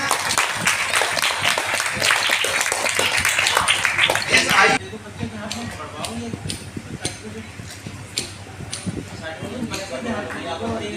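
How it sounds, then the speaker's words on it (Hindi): Audience applause at a prize ceremony for a competition at an Arya Samaj temple in Rampur, a loud burst of crowd clapping that cuts off abruptly partway through, followed by quieter scattered claps under someone talking. "जोरदार तालियां।"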